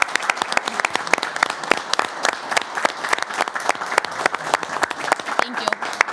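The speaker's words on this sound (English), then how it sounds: "We'll give these guys one more round of applause." Applause from a small audience at a city council meeting, sharp individual claps clearly separated and close, an uneven rhythmic patter lasting several seconds with some voices underneath.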